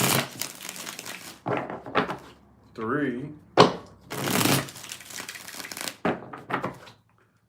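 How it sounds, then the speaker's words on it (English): Tarot cards are shuffled in several short, crisp riffling bursts separated by pauses, with a person talking and counting between them. "Let's get 5 shuffles."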